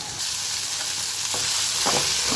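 Tomato and onion sauté gently in a pan over low heat, giving a continuous soft sizzle with a couple of faint scrapes of stirring.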